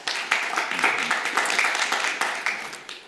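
Applause from a summit audience, a dense crowd clapping steadily and fairly loudly for about three seconds, close and continuous without letting up.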